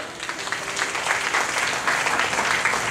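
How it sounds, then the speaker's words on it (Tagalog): A church congregation claps together in sustained, dense applause that holds steady and fairly loud for the whole stretch, with no voices standing out. "Yung nakakaunawa nga po'y pumalakpak."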